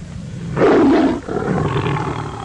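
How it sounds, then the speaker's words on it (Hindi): A pride of lions roars in a jungle setting, one deep, loud growling roar swelling up near the start and then trailing into a lower, rumbling second roar, close and clear with no voices. "शेरों की टोली गरज रही थी।"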